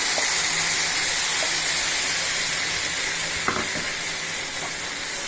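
Ground paneer paste added to hot masala in a pan, giving a steady broadband sizzle and hiss that holds throughout with faint stirring clicks and one small scrape, no talking.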